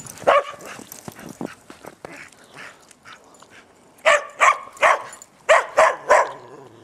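A dog barks repeatedly in a quick series of six loud, close barks after a stretch of softer yips and scattered sounds outdoors in the snow.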